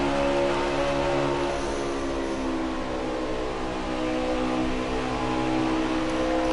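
Number 24 race car engine at a Texas oval, a steady loud drone with strong harmonics that barely eases through the corners, heard continuously without talk.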